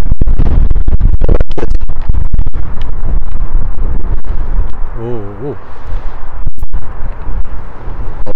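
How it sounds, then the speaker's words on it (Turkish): Strong gusts in Mardin buffet the microphone with loud, rumbling blasts and sharp crackles throughout, while someone talks over the roar. "Şu an çok sert bir rüzgar esiyor."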